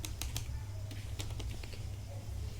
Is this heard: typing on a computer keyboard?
yes